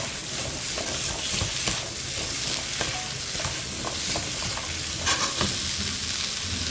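Potatoes and onion stir-frying in a pan at a cooking class, a steady close sizzle with scraping stirs and occasional louder clatters, no talking.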